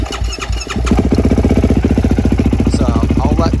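A quad bike engine starts with a brief rough crank, then settles into a steady, rapid idle thumping close by while warming up to burn off water.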